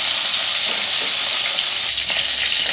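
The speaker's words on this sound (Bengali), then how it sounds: "এখানে ভোলা মাছগুলো ভাজা হয়ে গেছে সব" Bhola fish fry in a pan, a loud, close, unbroken sizzle of hot oil with faint stirring movements underneath and no talking.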